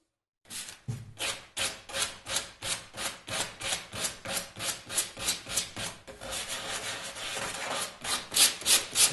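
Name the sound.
sanding wooden corners of Sela cajon kit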